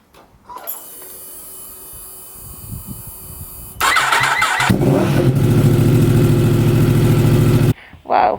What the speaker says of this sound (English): Now I'll fire up and see how loud she is.